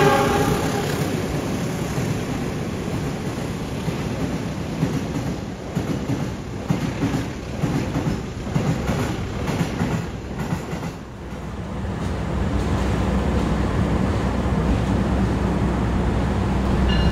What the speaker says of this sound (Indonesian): Ini kayaknya lokomotif dinas Argo Cirebon ya, lagi langsir.